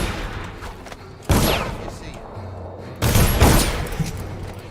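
Enemy gunfire in Dishonored: The Knife of Dunwall, two sharp loud bursts of shots with rattling echoes cutting through a low background hum of the level.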